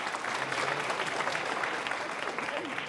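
An audience applauds at a Holi comic poetry gathering (hasya kavi sammelan), with sparse, steady clapping from a small group under a voice that speaks over it.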